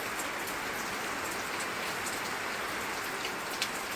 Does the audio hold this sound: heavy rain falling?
yes